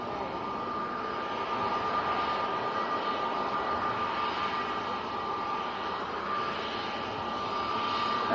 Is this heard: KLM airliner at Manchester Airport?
yes